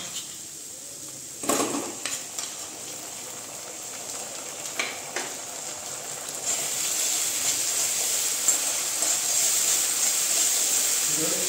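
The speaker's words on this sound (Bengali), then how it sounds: "এর মধ্যে আমি দিয়ে দিচ্ছি এখন এই যে টমেটো সসটা" Garlic chicken sizzles in a pan as tomato sauce is poured in and stirred, with a few sharp clacks of utensils at first and then a steady, louder frying hiss that builds toward the end. A voice speaks quietly underneath.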